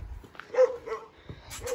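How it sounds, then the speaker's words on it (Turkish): A dog gives a few short barks and yips with whining between them, fairly close and moderately loud, no talking. "Köpek çok kötü havluyor."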